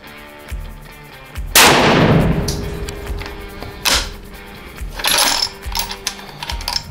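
A 25 Creedmoor rifle shot on a load-testing range gives one loud, close report with a lingering echo, followed by mechanical clacks and clicks of handling.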